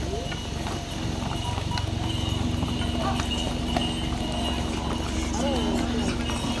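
Horses and mules plod along a muddy mountain path on the pilgrimage route to Kedarnath near Sonprayag, their hooves clip-clopping over a constant wash of crowd noise and talk, with an occasional neigh.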